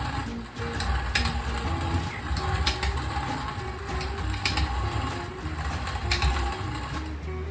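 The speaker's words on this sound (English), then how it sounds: "As you turn the handle, you get flour out." Hand-cranked grain mill grinding wheat into flour at a steam show, a steady close grinding and ratcheting clatter with repeated sharp clicks as the handle turns, among outdoor crowd and machine rumble.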